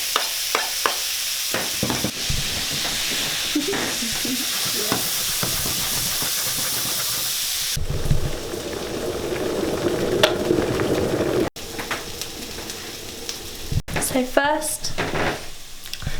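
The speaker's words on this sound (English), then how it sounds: "Now I'm going to add the garlic and bay leaves." Garlic and bay leaves hitting a hot pot for pumpkin soup, loud steady sizzling and frying with stirring scrapes, the hiss shifting partway through and easing near the end.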